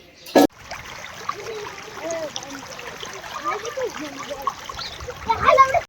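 Steady running rainwater trickles and splashes throughout, with people talking over it and a sharp knock near the start.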